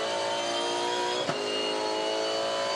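A 2015 V8 Supercar races through a left-hand turn in third gear at the Ipswich SuperSprint, its engine a loud, close, sustained high-revving howl with a brief dip midway.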